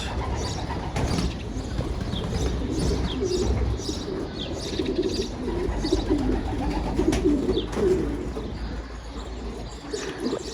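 Pigeons coo in soft, repeated throaty calls at close range over a continuous outdoor background, with faint chirps scattered throughout.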